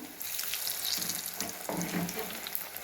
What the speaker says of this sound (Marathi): बघा मस्त तळायला लागलेत आपलं भजी